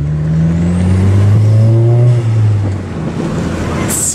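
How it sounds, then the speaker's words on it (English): An Audi fitted with an ECS intake accelerates hard, its engine note climbing and then easing loudly from inside the car, with a brief sharp airy burst from the turbo blow-off valve at the very end. "The blow off valve, you can hear that? Yeah. And you can hear it spooling too?"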